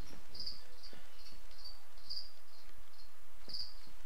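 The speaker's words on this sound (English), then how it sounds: "You guys hear those crickets? We bought crickets to feed the animals." Crickets bought as animal feed chirp in a video game, repeated short trilling bursts at a steady pace over a quiet background, with occasional soft clicks.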